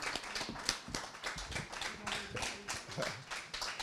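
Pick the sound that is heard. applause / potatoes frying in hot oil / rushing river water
applause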